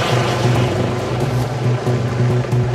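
A life flight aircraft lands at a hospital, producing a loud, steady engine and rotor roar with a rhythmic low pulsing throughout, close and with no voices.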